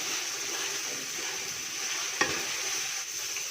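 Red chili powder is stirred into beef paya in a pan, giving a steady close sizzle with soft scraping of the spoon and one sharp clack midway, no voices.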